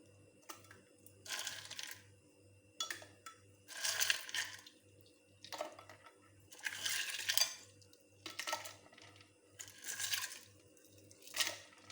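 Ice cubes for a mint margarita clatter and crunch in bursts, about eight separate rattling drops spaced a second or so apart, fairly close, with a low steady hum beneath and no talking.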